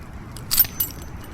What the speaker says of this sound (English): Right, so there's 3 sets of keys there.